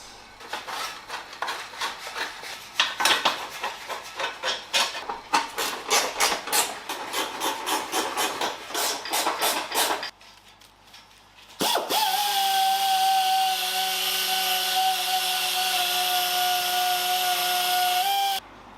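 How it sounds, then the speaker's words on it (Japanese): An AE86 bumper is polished by hand, a steady run of rhythmic rubbing and rasping strokes, then a pause before a loud, even machine drone with a sustained tone that holds to the end. "ちょっと気になったから磨いてみました。"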